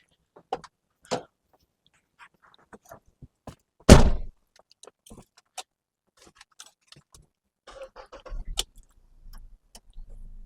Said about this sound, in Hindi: मैं जा रहा हूँ गाड़ी के अंदर